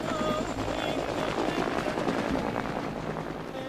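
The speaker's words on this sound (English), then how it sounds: "A close friend of the royal family takes off in an army helicopter." An army helicopter lifts off nearby, its rotor chop and engine roar loud and steady throughout without a break.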